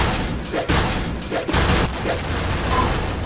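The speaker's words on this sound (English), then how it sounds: "Energy cannon destroyed." An energy cannon is smashed apart in a video game, giving a loud, dense rumble of heavy booms and crashing debris that rolls on continuously with a few sharper impacts, and no talk.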